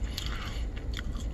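Close, crisp crunching bites into a wood-oven pizza crust, a few quick crackly chews with no talking.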